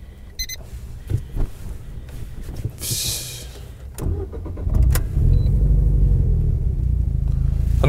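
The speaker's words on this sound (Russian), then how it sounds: "автомобиль завели, и не скажешь, что здесь около 200 лошадей. Тихо." Turbocharged Lada Kalina tuned to about 200 horsepower starting up, a low engine rumble catching and settling into a steady, fairly quiet idle, with a few clicks and interior knocks before it.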